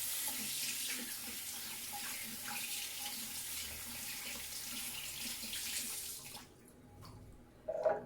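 A running tap rinses honey off a spoon, water splashing steadily into a sink for several seconds before the flow stops, leaving faint drips and a brief clatter near the end.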